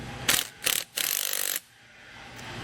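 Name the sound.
ratchet with 9/16 socket tightening a bolt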